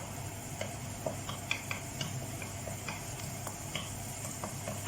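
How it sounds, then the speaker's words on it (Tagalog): Garlic and onions fry on full heat in a pan, giving a steady close sizzle with irregular light clicks and taps from stirring. "Halu-haluin natin, guys. Naka full fire po para madaling maluto."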